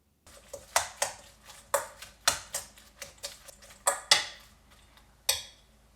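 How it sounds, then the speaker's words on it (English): Shredded cabbage salad being tossed and mixed in a bowl, a series of about a dozen sharp clinks and scrapes in an irregular rhythm, close and fairly loud with no talk. "Now we're going to give this a good mix again."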